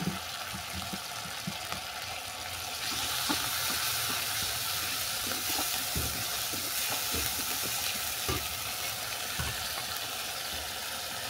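Grated tomato frying in a hot pan over sautéed ginger, garlic and onion, a constant loud sizzle and hiss with faint occasional clicks of stirring, no voices.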